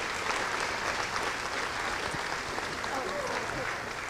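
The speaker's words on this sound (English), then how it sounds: "I will kindly ask for a round of applause for the people that put this together" Audience applause at a live medical talk in a civic center, a dense steady wash of clapping from a large crowd that carries on without a break and tapers slightly at the end.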